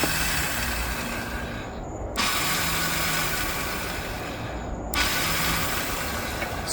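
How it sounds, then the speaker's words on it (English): An electric starter on a machine cranks with a steady mechanical whir and clatter but never catches, in two long bursts separated by a brief pause, loud and close with no voices. "Starter is no longer engaging."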